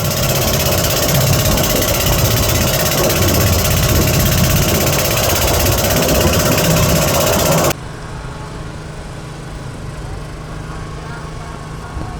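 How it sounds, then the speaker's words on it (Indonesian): A small motorboat engine chugs loudly with a steady drone on a river, then cuts to a quieter, thinner hum partway through; no speech. "sebentar lagi perahu ketek yang saya tumpangi akan sampai di tujuan"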